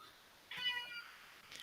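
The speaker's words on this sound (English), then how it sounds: "My daughter's cat meowing." A pet cat gives one clear, close meow of moderate loudness, standing alone against a quiet room background.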